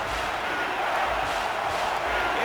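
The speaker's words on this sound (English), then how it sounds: "It's arguably the loudest crowd in the nation, and they are turning it up a notch." A huge college football stadium crowd at an Alabama home game against JMU roars on third down, a dense, loud, continuous wall of voices with no pause.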